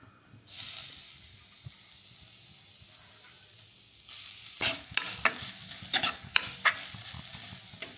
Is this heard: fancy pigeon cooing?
no